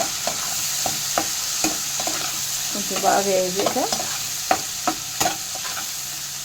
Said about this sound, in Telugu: ఇప్పుడు మళ్ళీ వేపుతుండాలి మధ్య మధ్యలో బాగా,